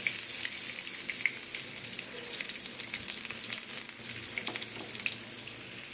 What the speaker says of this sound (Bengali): সুন্দর মুচমুচি করে ভাজা হয়ে যাবে